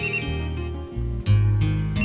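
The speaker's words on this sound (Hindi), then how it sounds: "शाहगुल का फोन आ गया" A phone rings with a bright electronic melody, repeating tones over a low sustained backing, loud and close, with no voices.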